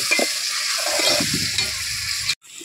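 Onions and tomatoes fry for a crab curry, a bright close sizzle under repeated stirring scrapes, cutting off abruptly near the end.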